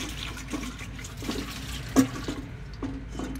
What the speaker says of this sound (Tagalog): Kuha tayong tubig mga gawiks para may pandilig tayo.